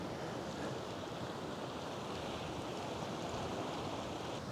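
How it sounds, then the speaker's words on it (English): Waves lash against rocks on a windy stretch of the Scottish coast near Portencross, producing a steady, loud roar of surf and gusting wind noise on the microphone, with no break throughout. "All these rocks though, the waves lashing up."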